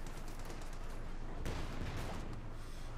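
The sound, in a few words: machine gun fire in Company of Heroes 2 video game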